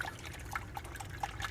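Fresh water trickled over sprouting seeds during rinsing: a soft, steady dribble with a few brighter splashes and drips at irregular intervals, fairly quiet and without talk.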